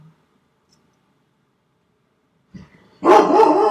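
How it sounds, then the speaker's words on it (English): A pet dog named Lucy lets out a short burst of loud, close barks near the end, after a long near-silent stretch with a faint thump just before. "Sorry, that is my dog."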